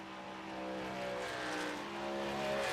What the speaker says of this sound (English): You hear him shift into fourth gear.